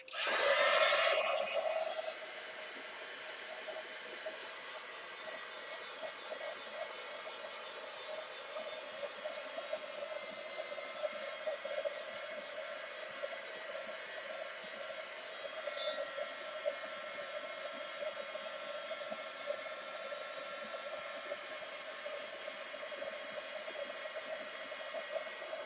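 A heat gun setting craft embellishments on a journal page gives a steady, even whooshing blow. It starts loud for a couple of seconds, then drops to a lower, constant hum that runs the whole time.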